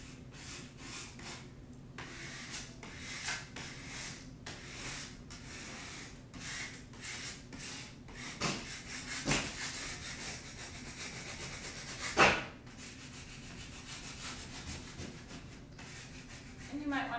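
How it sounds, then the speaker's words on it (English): Credit card scraping a vinyl wall decal onto a surface through transfer tape, producing a steady close rubbing and scratching texture with repeated strokes and one sharper scrape near the end, with no speech. "I'm just gonna grab my credit card here again and start scraping that on."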